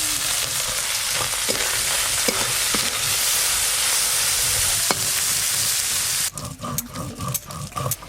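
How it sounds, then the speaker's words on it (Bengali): Dried fish frying in mustard oil with turmeric: a loud, steady sizzle runs close and unbroken for most of the stretch, then turns choppier and more uneven near the end. "শুটকি মাছ ভাজা হচ্ছে"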